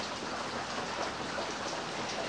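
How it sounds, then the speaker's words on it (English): Steady rain falls in a backyard during September bad weather, a soft continuous hiss of drops on surfaces, fairly faint and even throughout with no talking. "And there it is raining."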